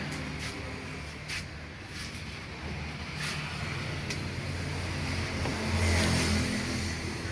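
Old Indonesian intercity bus from the 2000s on a Hino AK front-engine chassis, heard from inside as a steady engine drone and road rumble with gradual acceleration, occasional rattles and knocks, no talking.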